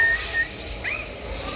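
A parrot gives a few short, high whistled chirps and squeaks at close range, changing pitch between calls, with no talking around it.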